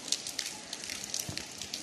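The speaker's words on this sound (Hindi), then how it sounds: "बारिश लगी हुई है हल्की हल्की।" Light rain falling during an evening thunderstorm, a soft patter of scattered drops on surfaces with faint crackling ticks, quiet and continuous with no talk.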